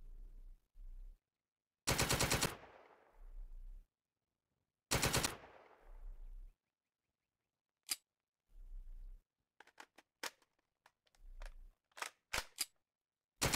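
Gunfire aimed at mutants in the island-survival game Ocean Is Home: loud bursts of rapid shots around two and five seconds, then scattered single cracks and short volleys, separated by quiet gaps and low rumbling.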